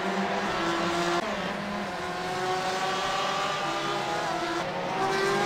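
Race car engines in an iRacing sim race at the Nürburgring, snarling continuously at high revs as cars overtake through a chicane, with pitch shifts on gear changes and braking around the corner.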